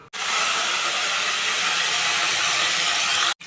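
Coriander and mint hit hot oil with cloves in a pan, giving a loud, even frying hiss that starts and stops abruptly, heard up close with no voices.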